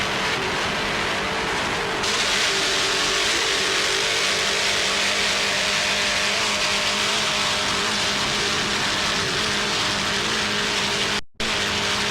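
An Alcone Motorsports race car roars on board through a turn, a loud, continuous engine drone with steady wind and road noise that cuts off abruptly near the end.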